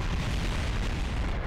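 A bomb blast in Kerbal Space Program rolls out as a steady, dense rumbling boom with no distinct onset, holding at an even loudness for its whole brief length, with no talk.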